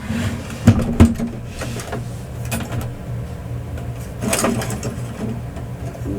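A sewing machine stitches through a playing card in short mechanical runs, a close whirring hum with a couple of sharp clunks near the start.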